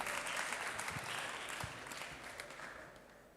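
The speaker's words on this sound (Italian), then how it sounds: "Accogliamo con un bel applauso i ragazzi" An audience at a regional school remembrance event applauds to welcome students on stage, giving a steady wash of clapping from many hands that gradually fades.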